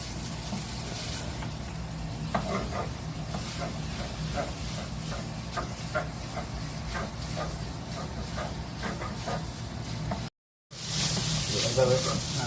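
Chicken chow mein noodles are stir-fried in a pan, giving a steady loud sizzling hiss with faint scraping taps of a utensil, briefly cut off near the end before the sizzle resumes.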